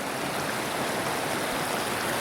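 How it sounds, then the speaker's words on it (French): A small mountain stream in the South Tyrol Alps below the Grossglockner, crossed on foot, gives a steady close rush of flowing water, broadband and unbroken, with no voices. "petit ruisseau que je traverse"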